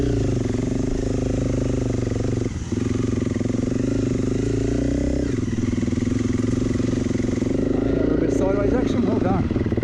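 A Honda CRF 300 Rally dual-sport motorcycle ridden off-road, its engine droning steadily and close throughout, with brief dips and a rising rev near the end.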